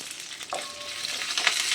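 Coriander and spices sautéing in hot oil for a country chicken curry give off a steady close sizzle, with a brief stir or scrape and rising crackle toward the end; nobody speaks.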